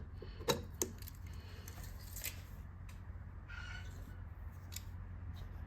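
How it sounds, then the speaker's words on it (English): Multiple Harley-Davidson keys on a ring jangle and click as a key unlocks the fuel door of a 2009 Harley police special motorcycle, with a few sharp metallic clinks at the start and softer rattles over a steady low hum. "Again, just using my multiple Harley keys. I unlock, I'm going to turn it back."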